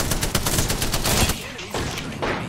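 Rapid automatic gunfire in a shooter video game, a dense stream of shots that breaks off abruptly, then resumes more faintly, with brief speech mixed in.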